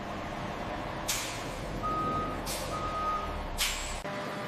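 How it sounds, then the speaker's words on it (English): A refrigerated milk tanker truck at a yogurt plant, heard as a steady low rumble with short bursts of air-brake hiss and faint reversing beeps in the distance. "Tankers deliver refrigerated milk from regional dairy farms."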